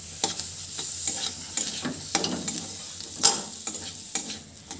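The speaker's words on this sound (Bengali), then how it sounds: "ধনে পাতা কুচি দিয়ে আলু পুরের সঙ্গে ধনে পাতা কুচিটাকে একটু নেড়ে চেড়ে ভালো করে মিশিয়ে নেব" Potato filling with chopped coriander leaves is stirred in a hot pan, a spoon scraping and tapping in irregular strokes over a steady close sizzle, with no talking.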